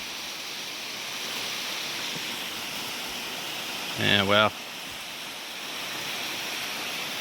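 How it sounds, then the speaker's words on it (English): Montezuma Falls roars from afar as a steady, even wash of falling water, with a short exclamation from someone nearby in the middle. "you can see the waterfall from here"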